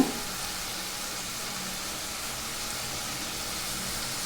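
Ingredients for Kumbakonam kadappa, including broken-up cooked potato, sauté in a pan with a steady, even hiss of sizzling oil, close and continuous, with no talking.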